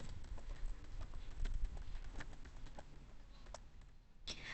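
Keyboard typing while entering router configuration commands in a Cisco-style CLI for IPv6 unicast routing, heard as irregular soft clicks and taps spread across the clip over steady background noise, with no talking.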